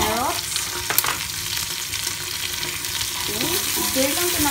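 Celery and carrots sizzle loudly as they fry in a pot for an oxtail stew, with a spoon stirring through them under the constant crackle.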